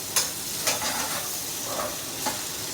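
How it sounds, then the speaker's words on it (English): Chicken stir fry sizzles steadily in a pan, a continuous hiss broken by a few sharp scraping clicks of stirring, close and fairly loud with no voices. "Have a great stir fry going in here."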